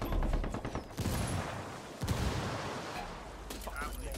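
Heavy video-game gunfire rattles in rapid bursts and sharp cracks, loud and close in a multiplayer shooter match, with sustained volleys and brief gaps between salvos. Voices can be heard faintly alongside.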